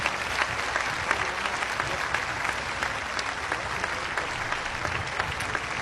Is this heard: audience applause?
yes